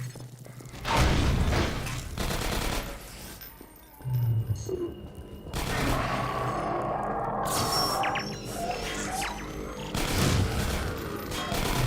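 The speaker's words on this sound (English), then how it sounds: "This explosion permanently seals the cafe door, which has a few benefits." In Half-Life 2 Episode One, an explosion seals a cafe door: a loud boom with crashing, shattering debris follows a quieter stretch, then rumbling and scattered game effects continue afterward.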